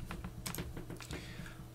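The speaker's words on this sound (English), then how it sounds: "such that you can see what I'm typing" Rapid keystrokes clatter on a computer keyboard while commands are entered in a Linux terminal, an irregular run of close, crisp clicks with no talk.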